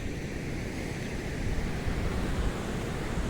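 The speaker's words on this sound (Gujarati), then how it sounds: "આ પૂર આ શેત્રુજી નદી આખી દેખાડું તમને" Floodwater of the overflowing Shetrunji river near Palitana, with dam gates opened, rushes past in a steady, loud broadband roar that holds constant throughout, with no voices.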